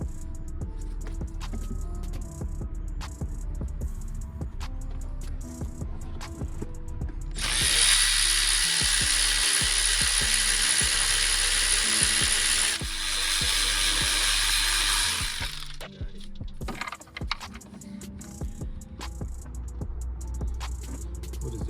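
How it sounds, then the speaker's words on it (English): A ratchet wrench clicks steadily while car alternator bolts are removed, close up over a constant background hum, with a louder hissing stretch in the middle before the clicking resumes. "Let's go ahead and remove the bolts for the alternator."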